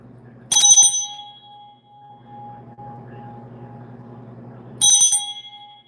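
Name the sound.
bell being rung several times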